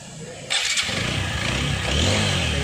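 A TVS Apache RTR 160 4V motorcycle engine with a slow-speed problem cranks and starts, settling into a steady close idle that builds slightly in loudness.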